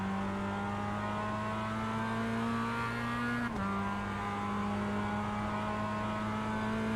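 A Mazda race car engine in the iRacing sim at Silverstone holds a steady, loud drone, and its pitch dips briefly partway through before settling again. No one speaks.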